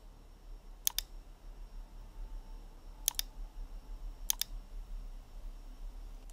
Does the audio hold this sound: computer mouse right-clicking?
yes